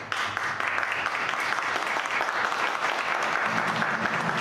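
Audience clapping at the end of a debate on libertarianism, a loud, full round of applause from a hall crowd that holds steady for several seconds.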